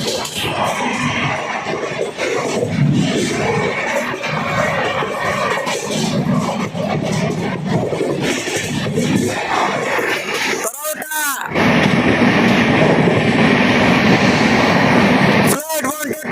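Azimabad Express rolling through Karauta railway station at speed, a steady loud rumble of wheels and carriage noise with voices talking over it, and two sharp swooshing bursts near the end as something passes close by.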